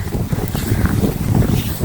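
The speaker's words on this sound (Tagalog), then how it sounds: "Malakas ng hangin oh." Strong wind buffets the microphone in a constant low, rough roar with gusty surges throughout, during snowfall outdoors in winter.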